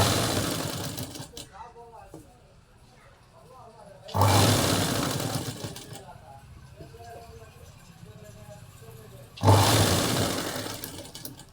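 A sewing machine stitches piping onto a blouse in two short, loud motor bursts separated by quieter pauses, with someone speaking over the work.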